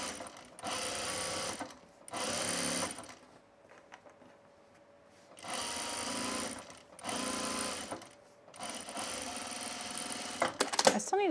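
A sewing machine runs in several short bursts while understitching a tool belt, its mechanical whirring stopping and starting with quiet pauses in between.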